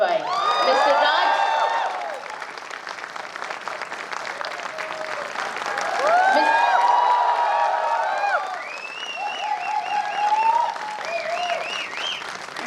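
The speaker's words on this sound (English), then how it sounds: "So with a big round of applause" An audience at the 54th IFFI film festival gathering applauds in a sustained wave of clapping and cheering with whoops and shouts. Voices rise out of the crowd noise throughout.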